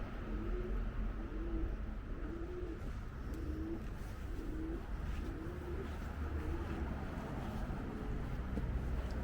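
A pigeon coos repeatedly in a steady rhythm, soft and mid-distance, over constant traffic and street noise while walking through West London near Hanwell.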